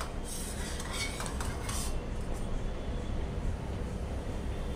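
A spoon scrapes and clinks against a pot of sweet pongal cooking on the stove, with a few quick metallic scrapes at first and then a steady low simmering hiss.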